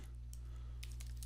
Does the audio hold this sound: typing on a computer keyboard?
yes